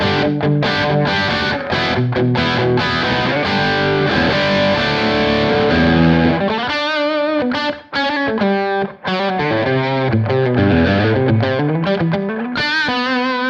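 Distorted, saturated music runs through the Safari Pedals Rabbit Tape plugin, its sustained tones bending and wavering in pitch with tape wow, loud and continuous with brief dips near the middle.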